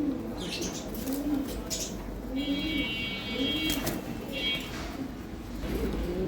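Taxon breed pigeons, a new pair of male and female in a pigeon farm, coo in low repeated rumbling phrases close by, with a faint high whistle and background chatter over a steady room hum.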